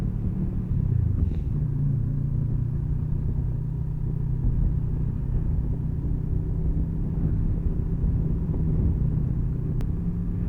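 A motorcycle on a mountain road in Norway, shifting down and rolling slowly through a hairpin bend: a steady low engine rumble, closely miked and moderately loud, that dips briefly early on and then holds an even drone.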